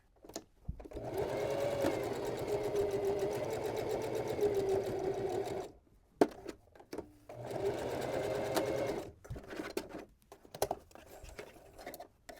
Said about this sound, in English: I'm going to sew from the top open edge of the bag to the mark, and I want to be sure to back stitch at the mark